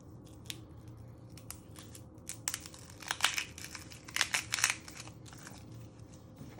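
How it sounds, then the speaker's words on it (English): Papery outer skin is peeled from an onion by hand, heard as faint, sporadic dry crackles and crinkly tearing snaps that cluster into short bursts near the middle, with no one talking. "And you peel 2 layers of skin."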